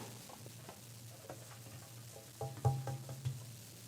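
A corn and onion mixture is stirred in a bowl, with soft repeated scraping and a few louder knocks near the end, heard up close against a quiet background.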